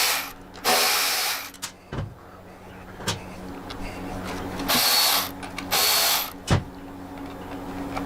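Quarter-inch bolts coming out of a Harley-Davidson Softail fuel tank with a power driver, several short whirring bursts separated by pauses, with small clicks and clanks of metal parts close by.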